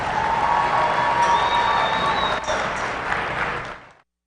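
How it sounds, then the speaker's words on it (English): Crowd applause and cheering in an arena at a county youth fair and livestock show for young showmanship exhibitors, loud steady clapping with scattered shouts that fades out near the end. "Let's give all these young people a round of applause."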